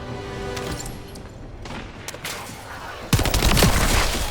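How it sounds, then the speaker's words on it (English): Gunfire in The First Descendant video game: scattered sharp shots and bursts over a dense rumble, building into a louder sustained volley near the end. "There's a sniper or something."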